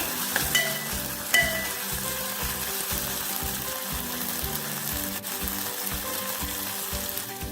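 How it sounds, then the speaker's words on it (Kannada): Ginger garlic paste frying in a pan for capsicum curry, a close, steady crackling sizzle with rhythmic scraping stirs and a couple of sharp clinks from the utensil against the pan. "ಇದನ್ನೊಂದು 2 ನಿಮಿಷ ಹಸಿ ವಾಸನೆ ಹೋಗುವವರೆಗೂ ಫ್ರೈ ಮಾಡ್ಕೊಳ್ಳೋಣ."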